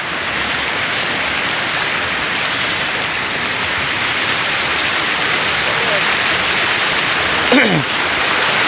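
A shallow stream rushes beside a rice paddy, a constant broadband hiss of flowing water filling the whole clip, with a faint brief sound near the end.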